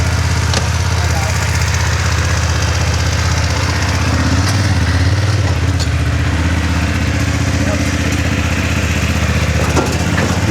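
A BMW F900GS motorcycle engine runs at a steady, rough idle close by, with a low mechanical rumble and occasional clatter throughout, and people talking faintly in the background.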